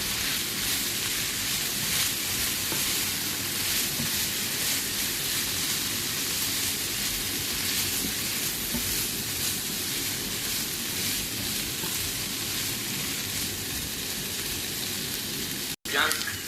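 Chicken menudo frying in a pan gives a steady, dense sizzle that runs unbroken for the whole stretch and stays fairly loud and close, then cuts out abruptly near the end.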